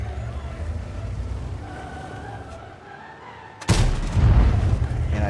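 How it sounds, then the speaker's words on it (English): Artillery firing in the tank battle game World of Tanks, one sudden heavy boom followed by a rumbling low roar that lingers, loud and close over steady engine-like background noise. "artillery is still trying to hit me, and that's never fun"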